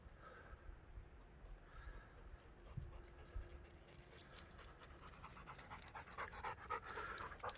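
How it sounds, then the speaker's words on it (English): Dogs panting outdoors in a quiet setting, a steady soft breathy rhythm running throughout at moderate distance, with faint background ambience and a low hum passing briefly midway. "Apart from the dogs panting"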